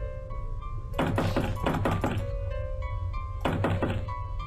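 Someone bangs on a locked door in the horror game Playing House 2: two bursts of rapid, heavy thuds, each lasting about a second, over a quiet tonal game soundtrack.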